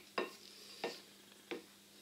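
A rice, onion and meat filling is mixed in a bowl, heard as three soft, evenly spaced scraping strokes, quiet and close, against a faint background hum.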